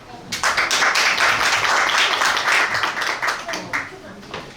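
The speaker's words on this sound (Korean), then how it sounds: "큰 박수로 맞이해 주시기 바랍니다." An audience applauds at a book concert in a hall, a dense, sustained wash of clapping that swells in quickly and keeps going at an even level.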